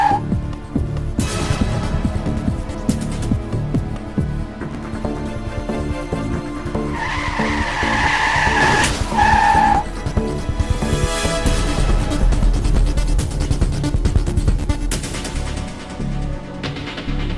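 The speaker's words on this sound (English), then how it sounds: "The centrifugal force pushes it outwards and it swerves out of line." A car runs too fast into a bend and skids outward, with tires squealing loudly over steady road and engine noise for several seconds.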